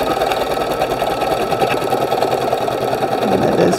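A sewing machine running a steady basting stitch while a fabric piece is held in a DIME sticky hoop, its needle buzzing loud and close in a continuous even whir.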